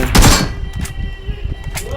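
BGMI gunfire cracks out loud and close in the battle royale game, an opening heavy shot followed by a quick series of lighter rapid shots continuing through the couple of seconds.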